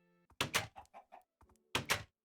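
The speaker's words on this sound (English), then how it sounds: "have a moment of silence to appreciate the noise emanating from these doors" Wooden doors in the Minecraft video game creak and thunk, two paired loud knocks framing a cluster of softer clattering taps, close and clear in an otherwise quiet scene.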